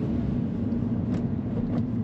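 A car drives along a road with a steady, continuous low rumble of engine and tyre noise from inside or close by, with no talking.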